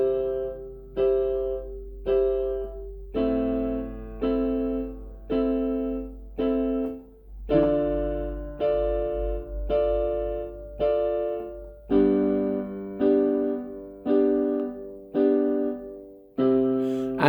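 Piano playing a chord progression with inversions, a steady series of sustained block chords struck one after another, close and clear with no talk.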